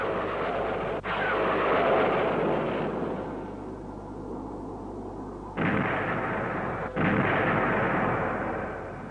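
Rocket fire in the 1968 film Mighty Jack, a loud roaring launch blast that swells, drops back to a rumble, then bursts out again in a second surge, with no talking.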